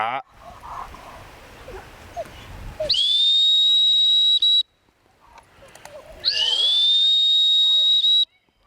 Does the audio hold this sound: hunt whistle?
yes